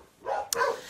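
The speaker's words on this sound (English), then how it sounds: "the dogs are barking in the background because someone's outside." Dogs bark in the background indoors, reacting to someone outside, a couple of quick barks with a sharp click between them, heard without any talk over them.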